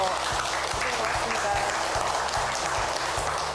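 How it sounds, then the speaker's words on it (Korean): Audience applause after a lecture on constitutional reform and local autonomy, a steady dense clapping texture with a hall hum underneath, sustained and moderately loud for the whole stretch. "다시 한번 박수 부탁드립니다"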